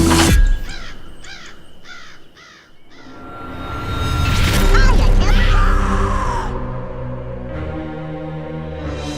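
Red-crowned woodpecker in a movie, a series of sharp repeated squawking calls at the start, followed by swelling noisy sounds and a drawn-out cry, with voices heard.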